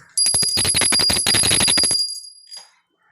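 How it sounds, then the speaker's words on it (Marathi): A small prayer bell rings rapidly and continuously for about two seconds during worship, then stops, followed by a faint, brief ring as it dies away. "घंटा आहे"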